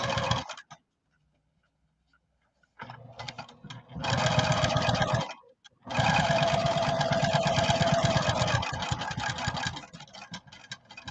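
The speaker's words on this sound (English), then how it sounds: "I'm going to sew, as I mentioned, 1/4 inch down the edge." A sewing machine stitching a quarter-inch seam along the edge of fabric for a beaded necklace, running in bursts of fast rhythmic whirring with short pauses and a near-silent stretch at the start, loud and close.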